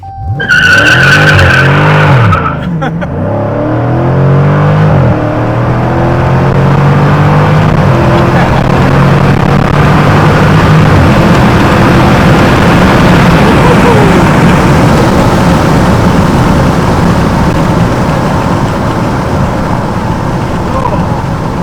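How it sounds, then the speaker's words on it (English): Dodge Challenger SRT 392 peeling out in sport mode at high revs: a short, loud burst of engine roar and tire squeal, then a sustained bellowing engine with skidding tires that stays loud and close to the end. "I think it peeled out a little more than earlier because of how higher the RPMs were."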